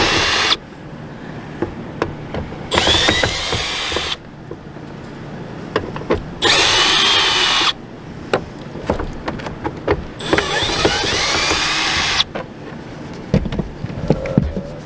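A power drill whirs in several long bursts as it backs screws out of the plastic casing on an AC unit during a fan motor replacement, with short pauses and handling clicks between runs.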